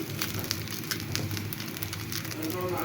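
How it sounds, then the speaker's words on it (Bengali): Sesame chapati flatbread fries in a hot pan with a soft, continuous sizzle and scattered crackling pops, heard fairly quiet and close throughout. "তো সব কটা চাপটি আমি এইভাবে ভেজে নিচ্ছি।"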